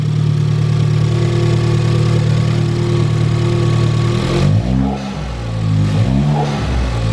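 A car engine fitted with an ITG air intake idling loudly and steadily up close, with a couple of brief revs or engine wobbles near the end.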